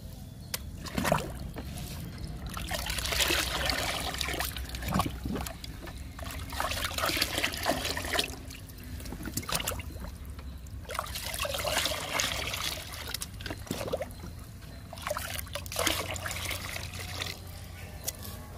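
Papaya peel liquid fertilizer is stirred into a bucket of water, producing repeated sloshing and trickling swirls in bursts, close and moderately loud, with no speech.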